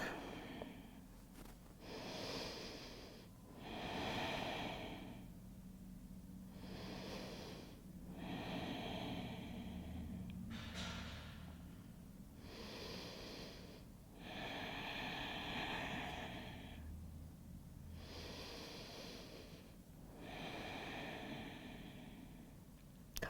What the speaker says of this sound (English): Couple more big breaths here.